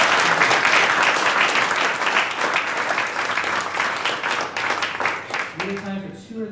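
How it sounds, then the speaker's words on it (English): A round of applause rises from the audience after a post-screening film premiere panel, dense and loud at first, then thinning out as a voice begins speaking near the end. "Can we do a round of applause?"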